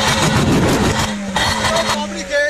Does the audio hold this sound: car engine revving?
yes